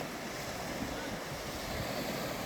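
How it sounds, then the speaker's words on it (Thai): Gentle sea waves wash onto the sandy Chao Lao beach in Chanthaburi on a calm morning, a steady soft surf roar mixed with light wind rumble on the microphone. "มีคลื่น ไม่แรงครับ"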